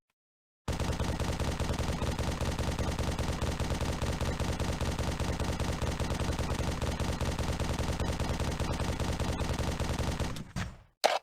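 An unbroken stream of rapid automatic gunfire from a battle rifle or assault rifle with bottomless-clip ability in Halo CE, loud and relentless for about ten seconds with no reload pause, then cutting off.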